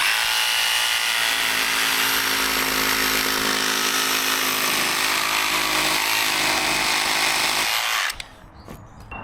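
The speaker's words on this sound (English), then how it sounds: "I've got a 45mm thick timber beam here, and we're just going to start with a cut and see how it goes." A FLEX 24V cordless jigsaw saws through a 45mm thick timber beam, a loud continuous buzzing rasp held for about eight seconds before the blade stops and the motor winds down.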